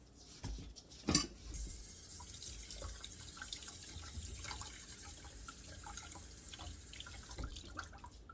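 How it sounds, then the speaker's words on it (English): Cube steaks rinsed under a kitchen sink faucet, a steady close stream of running water with a sharp clunk near the start and soft splashes throughout. "I can wash these off in the sink"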